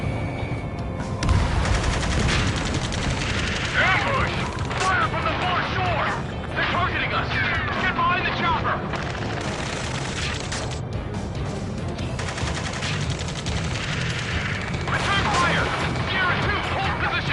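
Ace Combat 7 combat roars with continuous machine gun fire and heavy booms, loud and sustained throughout, layered under radio chatter and game voices.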